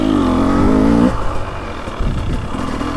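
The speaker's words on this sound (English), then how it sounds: "See, I'll go to second, just lug up this hill. This thing just grunts." A 2023 KTM 300XC dirt bike engine lugs uphill at low revs, a steady close, loud grunt that drops into a rougher, uneven chug partway through, with no one talking.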